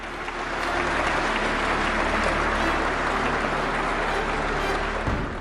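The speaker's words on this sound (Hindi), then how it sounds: "दरबार हॉल तालियों की गड़गड़ाहट से गूंज रहा था" Applause fills the Rashtrapati Bhavan Durbar Hall at an award ceremony, a thick, steady roar of many hands clapping that stays loud and even before cutting off abruptly near the end.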